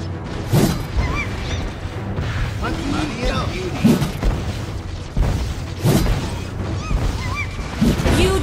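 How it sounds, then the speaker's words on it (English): A turret is destroyed in the Mobile Legends mobile battle game: loud booming blasts and crashing bursts recur every couple of seconds within a dense game soundscape, with an announcer voice speaking over it. "Your team destroyed a turret."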